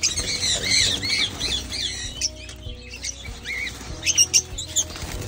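Many birds squawk and screech over one another in a busy, echoing aviary, with occasional wing flaps and sharp calls rising near the end.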